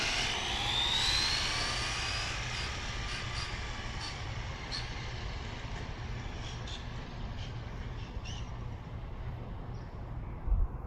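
An Arrma Vendetta RC car starting up for a speed run, a steady high-pitched electric motor whine with a rising shriek early on, continuous and loud with no talk.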